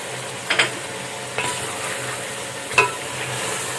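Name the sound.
frying masala with tomato paste in pan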